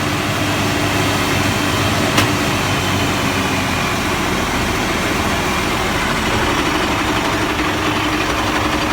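A fire tanker truck's engine idles steadily after its fire pump has been running, a continuous low rumble with a faint mechanical whine, close by and with no voices over it.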